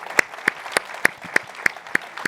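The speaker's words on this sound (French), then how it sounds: "Ouais, des applaudissements." Scattered claps from a small audience at a startup talk, a handful of sharp separate hand claps spaced roughly evenly, fairly close and alone without talk.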